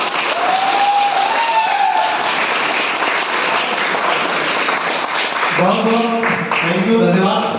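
Audience applause at a company stage event, sustained dense clapping throughout with music and a voice coming in toward the end.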